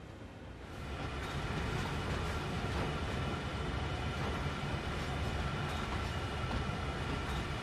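A heavy Norfolk Southern coal train rolls steadily in the Train Sim World 3 video game, a constant dense rumble and roar of locomotive and wagons that fades in during the first second, then holds even with no voices.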